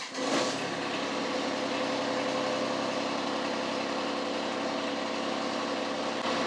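A 54-inch diesel zero-turn mower starts and then idles with a steady, fairly loud rumbling drone that stays even throughout, without speech.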